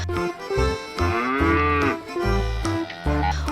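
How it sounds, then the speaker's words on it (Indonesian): A water buffalo gives deep, drawn-out moos, repeated several times in long resonant calls with short breaks between, loud and close. "ada hewan kerbau juga nih teman-teman"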